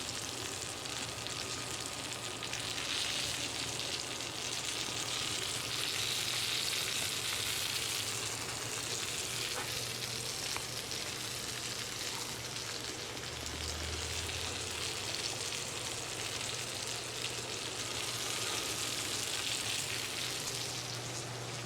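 Chicken fried steak frying in oil on a Blackstone griddle, giving a steady, dense sizzle that holds close and even throughout with no talk over it.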